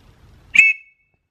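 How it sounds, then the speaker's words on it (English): A single short, shrill blast from an antique Scout Guide whistle, loud and close, lasting under half a second after faint background noise. "So I'll blow these two and let you hear what they sound like."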